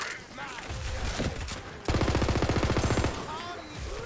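Rapid automatic gunfire from a gun in Tiny Tina's Wonderlands, a fast even burst of shots in the middle of the clip with game effects and sounds around it.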